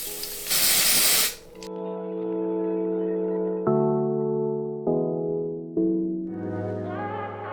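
A short, loud hiss of hair spray lasts about a second at the start. Sustained droning tones with abrupt shifts follow it.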